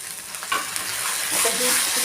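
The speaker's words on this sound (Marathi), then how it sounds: "आता याच्यामध्ये आपण टोमॅटो प्युरी घालून घेऊयात." Tomato puree poured into a pan of frying masala for cashew curry, giving a steady sizzle with soft stirring and scraping that swells near the end, with no voices.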